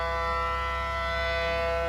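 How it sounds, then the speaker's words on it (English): A loud, steady civil-defense siren blares without pause in the Roblox storm-chasing game Twisted, a sustained droning tone filling the whole moment with no voices. "The siren's actually cutting itself off."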